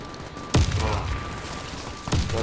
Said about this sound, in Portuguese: Os caras estão jogando muita granada aqui